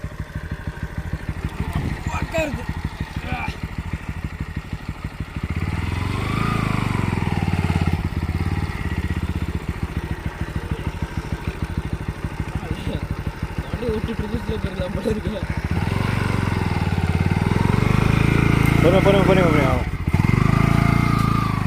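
A motorcycle rides along a sandy village track, its engine droning steadily and loudly throughout with shifts in pitch as it speeds up, while people talk over the noise.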